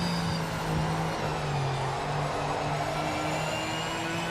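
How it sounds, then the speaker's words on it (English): Toyota Supra engine in a racing video game, a steady mid-level drone that holds at an even pitch throughout with no voices over it. "It's a cool sounding car."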